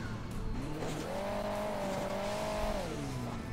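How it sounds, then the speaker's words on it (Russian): A sports car engine in Hill Climb Racing 2 rises in pitch, holds a sustained whining tone, then falls away, all fairly quiet with no talk over it. "Там сзади спортивное какое-то супер Феррари едет."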